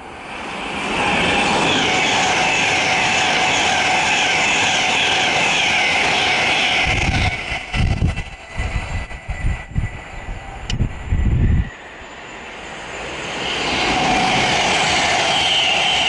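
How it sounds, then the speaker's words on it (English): Loud, steady rumble of two Virgin passenger trains passing close by in opposite directions, with a brief choppy burst of clattering carriages midway before the roar settles and returns. "Two Virgin trains are about to pass"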